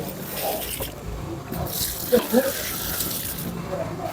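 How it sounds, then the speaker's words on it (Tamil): A bucket of water is poured over a wrapped courier cargo shipment, giving a splashing gush with a couple of sharper splats midway, fairly quiet against faint background voices. "2வது பக்கெட் தண்ணி ஊற்றணும்."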